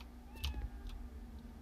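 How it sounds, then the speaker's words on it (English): A cat meows in the video game Eisenfaust: Legacy, a short meow near the start followed by faint clicking under a low background hum. "Oh, the kitty."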